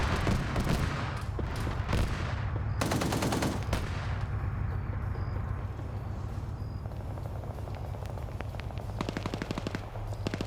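Rapid bursts of autocannon fire from a vehicle in a multiplayer shooter game, loud sustained rattling volleys with brief pauses, layered over constant engine rumble and distant gunfire.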